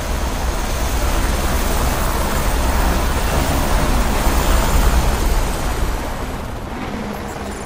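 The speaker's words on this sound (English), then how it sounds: "Helicopter's really loud." A loud police helicopter in the racing video game The Crew gives a dense, constant roaring rotor-and-engine wash that dominates throughout and eases slightly near the end.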